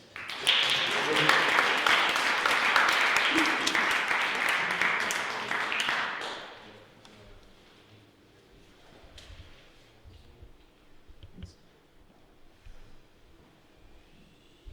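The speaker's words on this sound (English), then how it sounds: "let's give a round of applause to Yex." An audience applauding at a spoken-word performance, loud sustained clapping for about six seconds that then fades into quiet room noise with faint rustling.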